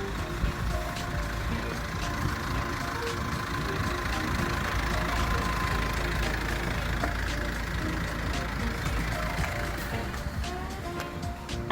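A used SsangYong manual-transmission car's engine idling, a steady low mechanical hum with faint ticking, fairly quiet and continuous with no talk.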